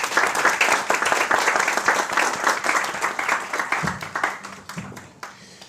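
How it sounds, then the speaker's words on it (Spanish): A church congregation at a national holiday service claps together in a lively burst, loud and close at first, then thinning out toward the end. "Un aplauso al Señor por nuestro país."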